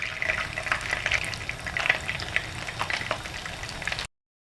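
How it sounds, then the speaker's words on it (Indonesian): Chicken meatballs bound with egg fry in butter in a pan, giving a steady, close, bubbling sizzle that runs on without a break and with no talking. "sekarang kita goreng ya bola-bola daging ayamnya"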